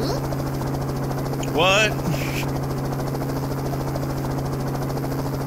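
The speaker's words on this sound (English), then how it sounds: "Why is the helicopter noise going on in this scene and not the other scene?" Steady low droning hum of a helicopter heard throughout a visual novel game scene, with a brief spoken interjection over it partway through.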